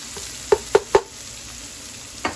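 Food fries in a pan while chicken marsala is cooked, with a soft steady sizzle under three quick close clatters of stirring in a row and one more a moment later; no talking.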